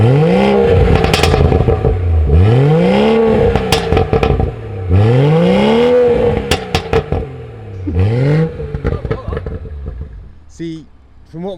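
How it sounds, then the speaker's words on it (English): BMW M140i fitted with a Scorpion exhaust and stock catalytic converter revs repeatedly, each rise and fall of pitch coming in a regular rhythm with crackles and pops, close and loud, with brief voices near the end. "this Scorpion sounds better with stock cat"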